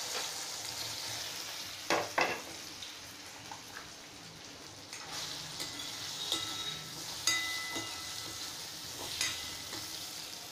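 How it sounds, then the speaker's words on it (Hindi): Gram flour gatte lightly frying in a kadai with a spoonful of refined oil, a faint steady sizzle with occasional louder pops and spatula taps scattered through. "इसमें हम पहले गट्टा को हल्का फ्राई"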